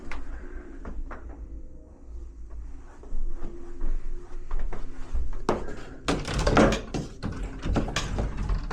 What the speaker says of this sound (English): Having some trouble getting this door open.